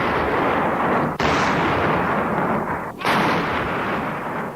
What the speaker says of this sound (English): Pakistani and Indian soldiers letting loose artillery fire across a ceasefire line